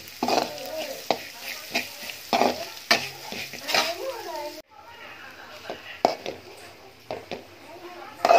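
Potato palya is stirred and fried in a home kitchen, with a spoon scraping and clinking against the pan over a soft sizzle while people talk throughout.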